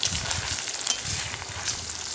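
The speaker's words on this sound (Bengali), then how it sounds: "আদা রসুনটা বেশ ভালো করে এটাকে ভেজে" Ginger garlic paste frying in a pan with meat curry cooking, a soft, steady sizzle and hiss, quiet and close, with faint stirring scrapes.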